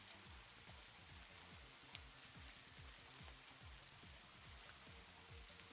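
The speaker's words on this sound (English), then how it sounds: "Oh, the rain." Steady rain patters on a surface, soft and even, with faint scattered drops and no voices.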